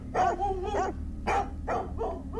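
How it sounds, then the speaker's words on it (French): Dogs bark near a house, about four sharp woofs in quick succession with short gaps, fairly close and clear against a low background hum. "Je n'entends que les aboiements des chiens quand je passe devant leur maison."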